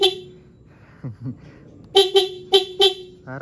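A motorcycle's dual horn sounds close by in four short, loud honks after a quiet stretch. A voice is heard before and after the blasts.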